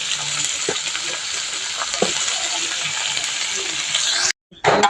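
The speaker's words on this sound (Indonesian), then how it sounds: "goreng tempe lo" Tempe frying in a pan gives a loud, steady sizzle with occasional stirring clatter, ending in a brief cut and a short burst of sizzle.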